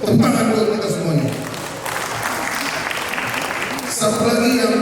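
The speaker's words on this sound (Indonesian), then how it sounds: "Tepuk tangan buat kita semuanya." A seminar audience applauds with brief, moderately loud clapping that rises and falls, while people's voices carry on over and around it.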